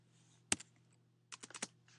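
Typing on a computer keyboard during a maths lesson, one sharp keystroke followed after a pause by a quick burst of four or five close clicks, quiet and alone.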